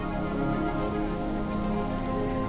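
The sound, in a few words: rain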